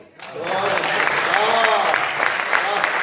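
A large audience applauds at a Hindi poetry recital, dense continuous clapping that rises quickly and holds loud and steady throughout, close and full with no voice over it.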